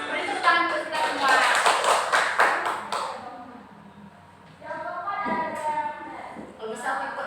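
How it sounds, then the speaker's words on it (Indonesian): A group claps hands together in a burst of sharp, fast, overlapping claps that is close and loud. The clapping fades briefly and then starts again, with a few voices mixed in. "Beri tepuk tangan untuk kita semua."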